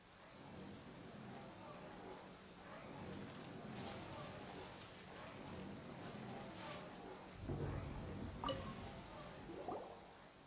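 Rain keeps falling steadily in a thunderstorm in Genshin Impact, and low thunder rolls come in around the middle and near the end. The storm stays faint, with no talking.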